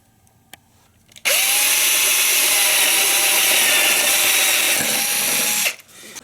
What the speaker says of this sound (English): What I have is a drill with a 3/8 paddle bit loaded into it.